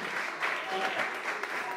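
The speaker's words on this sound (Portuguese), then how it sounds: "dê uma salva de palmas bem forte para Jesus" A church congregation applauds for Jesus, a dense, steady wash of many hands clapping together at even volume for under two seconds.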